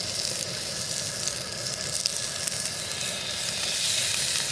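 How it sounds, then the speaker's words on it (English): Steady crackling sizzle of Cajun walleye fillets frying in a hot pan, continuous and fairly close, with no talking. "you can hear that sizzle."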